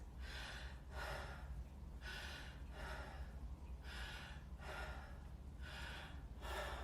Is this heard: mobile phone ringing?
no